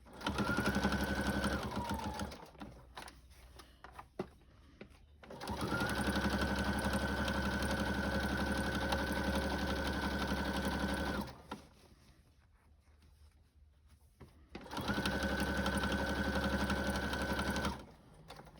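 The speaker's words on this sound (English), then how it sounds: "My machine seems to be handling it okay. I just have a brother A150." Brother A150 sewing machine stitching a thick fabric book sleeve, three long bursts of loud, fast, even mechanical whirring separated by quiet pauses with fabric handling, close up.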